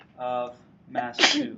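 A person speaks briefly, then a single sharp sneeze bursts out loudly nearby.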